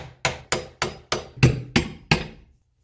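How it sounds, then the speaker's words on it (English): A hammer drives a flathead screwdriver against a door hinge pin: seven sharp, close metallic knocks in an even rhythm, each ringing briefly before the next, then silence. "how about a flathead screwdriver and a hammer?"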